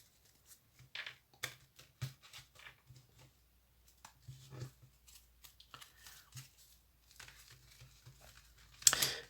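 Tarot cards being cut and shuffled on a table, with soft scattered taps, slides and paper rustles, quiet and close, broken by brief pauses and a louder shuffle at the end, no talk.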